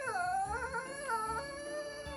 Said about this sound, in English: in the distance you hear it, the horrible howling of the creatures of the night